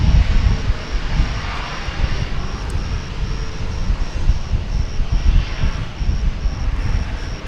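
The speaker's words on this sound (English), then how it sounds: "There's a SkyWest American Eagle flight going out right now." SkyWest American Eagle regional jet departing at Dallas–Fort Worth airport, a moderate distant engine roar that holds steady and pulses slightly, heard from a spotting position with no talk.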